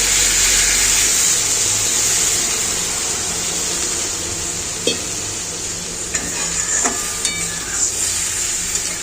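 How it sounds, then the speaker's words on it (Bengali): Water hits hot fried spice paste for a Bengali bata fish oil curry, giving a steady sizzling, steaming hiss that slowly fades. A few sharp utensil clicks and taps come near the end, close by, with no talking. "এবার এর মধ্যে আমরা পরিমাণ মতন জল দেবো"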